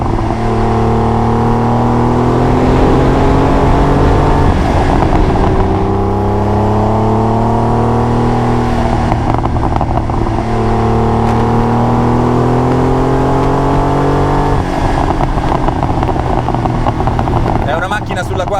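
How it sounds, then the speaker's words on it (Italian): Air-cooled Porsche 911 Turbo 3.3 (930) engine revving hard through several gears, a loud rising drone that climbs, drops at each shift and climbs again, heard from inside the car. "Già il rumore dei raffreddati ad aria era qualcosa di incredibile, ma la turbo è una sinfonia di suoni e di sensazioni terribili."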